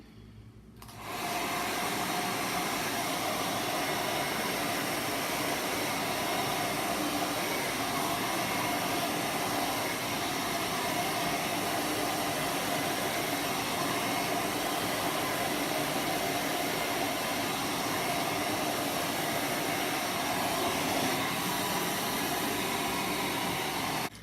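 A hair dryer blow-drying natural hair, starting abruptly after a short quiet moment and then running as a loud, constant, close whoosh of blowing air for over twenty seconds without a break.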